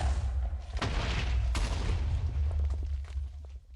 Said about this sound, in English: I'm giving up with TNT.